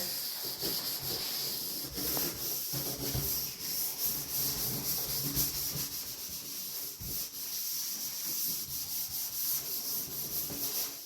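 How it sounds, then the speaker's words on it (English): Steady scrubbing of a shower stall with a cleaning pad or brush, a continuous rough rubbing that swells and eases in quick strokes throughout, close and fairly loud with no talking. "I am just scrubbing it right now."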